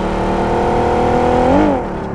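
A vehicle engine in PUBG Mobile revs with a steady, loud whirring drone, rising briefly in pitch near the end before dropping off, with no talking over it.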